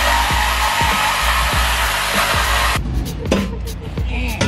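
A power cutting tool buzzes loudly and steadily through the exhaust mid pipes on a Nissan Titan, with a rhythmic pulsing undertone, then stops abruptly as short clanks and rattles follow.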